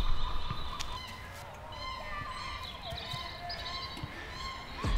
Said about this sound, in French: alors que moi ma musique c'est des oies qui crient là-bas là.